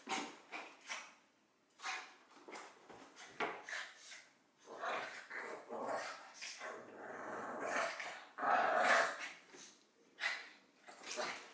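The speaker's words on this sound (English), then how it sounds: "I'm happy my dogs are healthy and well and playing. I'm gonna let them play." Dogs play together, with intermittent growls, grumbles and snorting bursts that come and go close by. No one talks over them.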